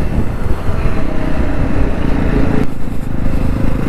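A 2024 Jawa 350 retro motorcycle pulls hard under acceleration, its engine droning loud and close with steady exhaust rumble and wind rush, briefly dipping as if shifting gear before resuming.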